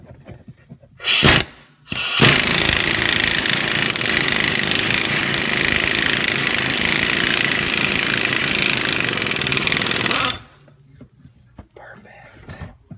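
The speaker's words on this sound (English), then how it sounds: "Alright, let's try this stubby impact." A stubby impact wrench hammers loose the crankshaft pulley bolt on a Ford 5.4L 3V engine, one sustained loud rattling burst of about eight seconds after a brief blip, close to the mic.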